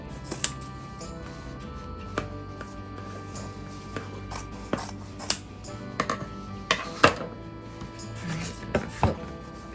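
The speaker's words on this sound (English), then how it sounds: "I'm just gonna cut a strip" Scissors snip through a strip of thrifted fabric for a stocking project, a series of close, irregular crisp cutting clicks and rustles spaced through a quiet room.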